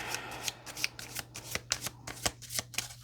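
Tarot cards shuffled close by in a quick, crisp run of riffling flicks and slaps, steady and fairly soft, with no talk.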